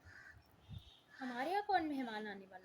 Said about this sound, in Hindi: कौवा क्यों बोल रहा है?